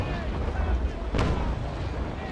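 Ship cannons firing in the naval sailing game Naval Action, a dense, rolling broadside roar with one sharper boom near the middle, loud and continuous throughout.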